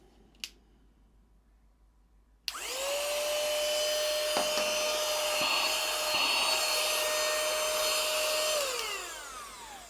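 XBllcyiv mini vacuum cleaner switches on with a click and runs with a steady high-pitched motor whine and airy hiss for several seconds, then winds down, heard alone up close.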